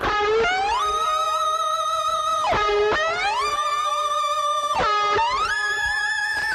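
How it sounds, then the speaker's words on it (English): Electric guitar through a Rocktron Utopia G300 multi-effects pedal's pitch-shifting effect, notes gliding and bending into high octave tones, repeated swoops over about six seconds, loud and processed. "there's some great modulation kind of sounds you can get"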